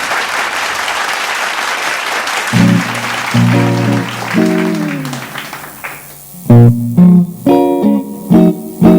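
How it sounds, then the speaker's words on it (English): Loud applause from a live show audience fills the opening seconds, then music begins and carries on under the fading claps. "Now please give them a warm round of applause."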